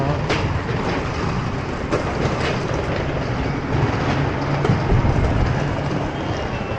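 A Hong Kong rail system train in motion, with a steady, loud rumble and rail clatter running continuously, no talking heard.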